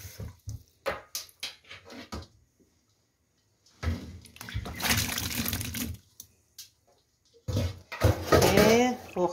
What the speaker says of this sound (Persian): و بعد از آب کشی میریزیم تو آب یخ.